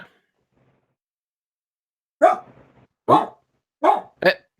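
A dog barks several times in short, loud bursts, four separate barks spaced about a second apart after a quiet stretch, close to the listener.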